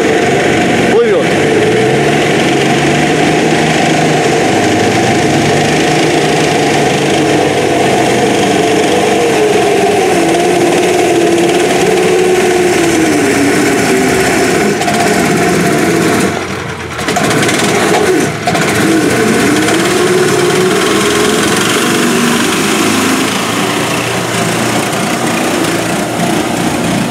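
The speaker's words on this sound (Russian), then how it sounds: "Здесь переломка едет. Плывет." Articulated off-road vehicle wading through deep water, its small engine droning loudly and continuously with slight pitch shifts, close by and briefly dipping near the middle.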